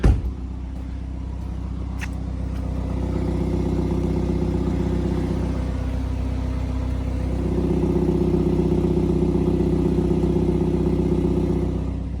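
A BMW 330e Touring petrol hybrid with a turbocharged 2-litre engine idles with a steady low grumble, close by, its pitch shifting slightly partway through, with no talking.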